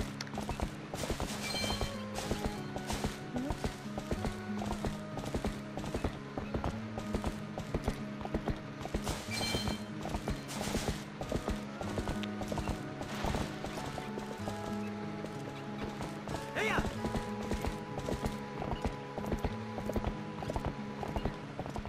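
Horse hooves clip-clop steadily in Zelda Twilight Princess HD, a continuous rapid gallop rhythm over game music and ambience, loud and close throughout.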